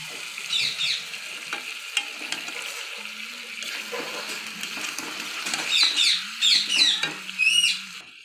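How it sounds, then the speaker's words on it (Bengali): Mutton and potatoes fry in a pan for mutton kosha while being stirred, making soft scraping, bubbling and moderate sizzling close by, with a faint low hum underneath. "আলুগুলোও দিয়ে দিলাম, সব একসঙ্গে কষাবো।"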